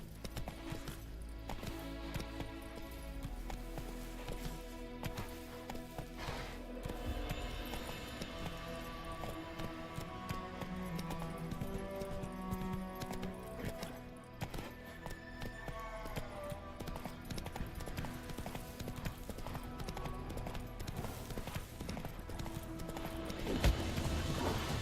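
Steady rhythmic hoofbeats of the horse Roach galloping in a video game, continuous and fairly close, running under game music and ambient sound for the whole stretch.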